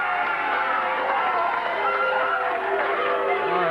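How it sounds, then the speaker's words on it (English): A wrestling arena crowd cheers and applauds Brian Christopher's entrance at a 1992 USWA TV event, a steady wash of cheering and clapping with a commentator's voice running over it. "A little more applause than I really expected for Brian Christopher."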